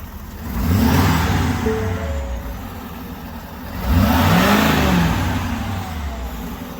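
A 2022 Ford Powerstroke 6.7L diesel pickup truck engine with an upgraded cold-side charge pipe revs twice, each rev rising in pitch then falling back to a rumbling idle, close and loud with no talking.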